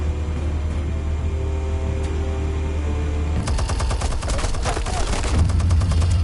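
Gunfire from the Telltale Batman game: rapid, dense bursts of shots break out partway through, loud and sustained over a low rumbling background.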